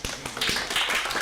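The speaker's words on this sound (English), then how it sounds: "Let's give him a round of applause." Audience applause for a solar company sponsor named Lee at a real estate investor meeting, a dense, steady patter of many hands clapping that swells and holds for about a second with no voices.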